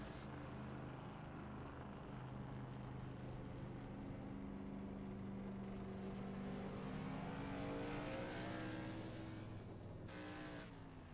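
A modified race car, the 10 car with something badly wrong, rolls down pit road at Thompson toward its pit box, its engine note droning steadily and loud throughout, rising in pitch near the end.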